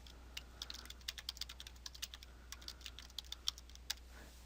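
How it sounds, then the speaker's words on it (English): Quiet, rapid keystrokes clatter on a computer keyboard in an irregular rhythm, close by, with no voices. "Adding your post content can be as simple as just typing into the editor box."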